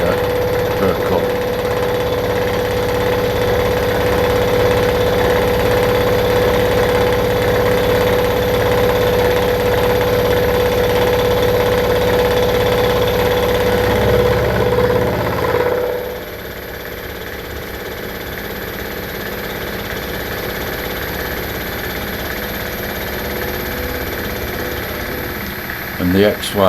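A metal-cutting machine mills a new governor part for a hit-and-miss engine, with a steady loud whine and chattering hum that drops abruptly partway through to a quieter running hum; speech is also present.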